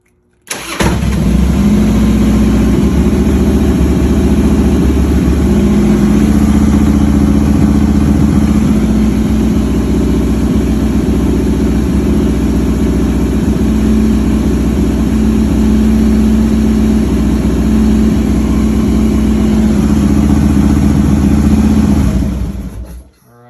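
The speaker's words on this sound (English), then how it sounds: "Let's go ahead and fire up the bike." A Harley motorcycle engine cranks and fires, then settles into a loud, steady close-up idle with a deep low rumble for about twenty seconds before cutting off abruptly.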